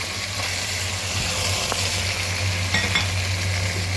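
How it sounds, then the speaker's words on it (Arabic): Steady, close sizzling of hot peppers frying with tomato paste in a pan for an okra dish, with faint utensil scrapes and taps as the mixture is stirred, no speech. "هتقعدي تشوحي الفلفل كده لغايه ايه"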